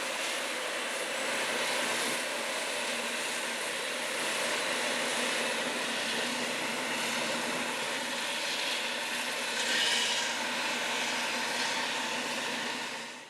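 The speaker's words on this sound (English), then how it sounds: "Jaguar self-propelled forage harvester equipped with an Orbis 635 row independent corn head" A 626 hp CLAAS 960 Jaguar self-propelled forage harvester with an Orbis 635 row-independent corn head chops corn silage in a field, its engine a loud, steady, broadband drone that holds throughout with only slight swells.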